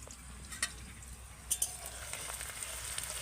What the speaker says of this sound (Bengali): পেঁয়াজটাকে মাঝে মধ্যে এইভাবে নেড়ে দেবো বেরেস্তা আমার ভাজা হয়ে গেছে